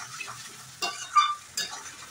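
Mutton kosha stir-fried in a pan over lowered heat, with soft sizzling and a few louder scraping stirs of a spoon, close and alone without talk.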